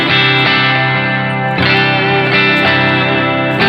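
An electric guitar played through an EarthQuaker Devices Special Cranker overdrive pedal, with a Dispatch Master pedal also on. It rings out loud, sustained, gritty chords that are restruck a few times, with no talking.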